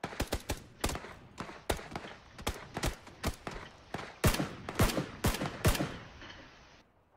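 Sharp, loud single gunshots crack out in an irregular series of about fifteen in PUBG, some closely paired, with short gaps between.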